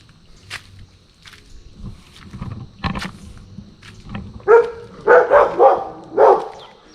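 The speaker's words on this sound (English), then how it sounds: "This is also part of animal farm. Dogs. They have different types of dogs here." Several dogs on an animal farm in Haputale, Sri Lanka bark in short bursts, starting with scattered distant yaps and building to a cluster of loud, close barks near the end, with footsteps in between.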